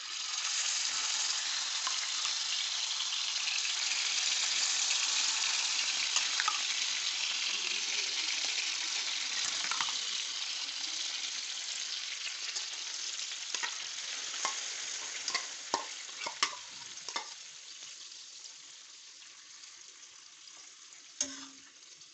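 Minced keema frying in a spoonful of ghee on a hot tawa over a gas flame, a steady loud sizzle that eases slightly over time, with scattered clicks and scrapes of stirring near the end.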